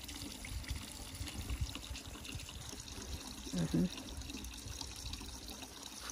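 Fresh, cold water pours and trickles from a village tap near a forest in Alsace, a steady quiet flow with a brief louder splash, while a person talks nearby.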